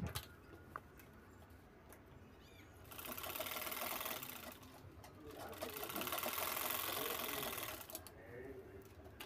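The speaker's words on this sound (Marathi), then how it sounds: "दाबटीप झाल्यानंतर दोन्ही साईड शिवून घ्यायच्या आहेत बाजूच्या" A sewing machine stitches the sides of a shell-shaped fabric bag in close, rapid mechanical running bursts, two longer stretches of whirring separated by quieter pauses and small clicks.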